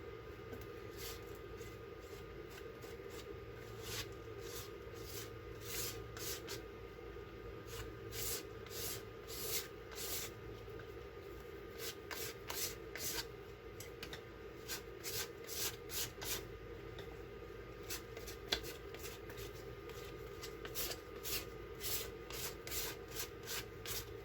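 Card dragged flat across a textured art journal page, giving a steady soft rubbing scrape with repeated short strokes close up, no voices.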